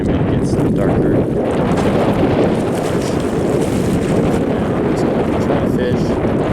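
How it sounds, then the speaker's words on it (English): Strong wind buffeting the microphone outdoors beside Otter Creek in southern Utah: a loud, constant low roar and rustle with no breaks, continuing for several seconds and drowning out other sounds. "you can probably hear it's really windy."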